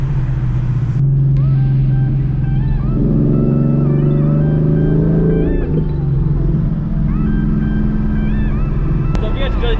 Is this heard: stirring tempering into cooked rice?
no